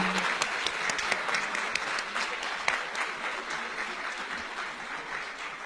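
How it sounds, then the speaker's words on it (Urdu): An audience at a book launch event applauds Javed R. Laghari, a dense, lively wash of many people clapping at once with a few sharper claps standing out, holding steady for several seconds. "آپ کی بھرپور تالیوں میں جاوید آر لغاری صاحب."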